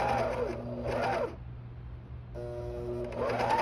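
Coverstitch sewing machine fitted with a binder attachment, running in two short whirring bursts separated by a quiet pause, close and motor-driven with a steady mechanical hum underneath, no talking.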